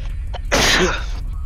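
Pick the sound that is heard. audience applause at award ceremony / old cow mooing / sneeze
sneeze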